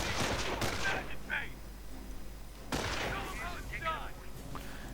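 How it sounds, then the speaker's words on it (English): M1 carbine fire rings out in a World War II strategy video game as airborne troops fight Panzer Grenadiers. Scattered cracks and quick volleys sound in two clusters under ongoing commentary. "airborne popping in by the Panzer Grenadiers, taking care of them rather swiftly with their M1 carbines"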